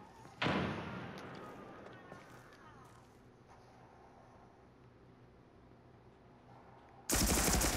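Gunfire in the video game America's Army: Proving Grounds: a sharp, loud shot bursts out at the start and rings off, quieter clatter and footsteps follow, then another heavy burst of fire erupts near the end.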